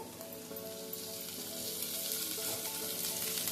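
Onion, green chilli and crushed garlic frying in a pan for ridge gourd chutney, a dense, steady crackling sizzle that swells slightly, close and without speech.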